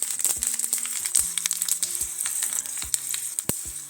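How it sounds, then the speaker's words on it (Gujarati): Curry leaves drop into hot oil with mustard seeds and white sesame seeds for a tempering, giving a bright, steady hiss peppered with sharp pops and crackles. Soft background music plays underneath. "થોડી વઘારી મીઠા લીમડાના પાન."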